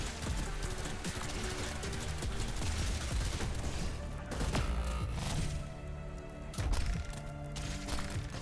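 Dense, continuous gunfire and crashing impacts fill a busy video game battle in a Wild West setting, with sharp bursts standing out near 4.5 and 6.7 seconds over a loud, cluttered background.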